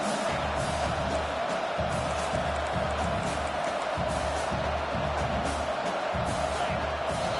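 A packed stadium crowd in a football video game roars in a constant, dense wash of cheering and noise, loud and sustained without letup.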